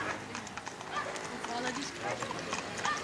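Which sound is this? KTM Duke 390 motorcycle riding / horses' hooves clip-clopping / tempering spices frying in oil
horses' hooves clip-clopping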